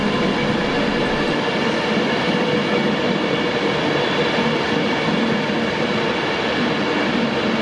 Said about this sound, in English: This isn't my Avanti train, it's an earlier one running late.